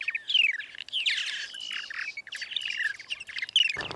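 A purple martin sings its dawn song over a colony, a run of rapid high chirps, gurgles and descending whistled notes in quick bursts, fairly close and clear against a quiet background.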